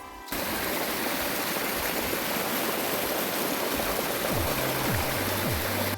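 Steady rushing water pours over a gold-panning sluice screen outdoors, washing it down into a basin. The flow stays broad and continuous throughout, with no voices.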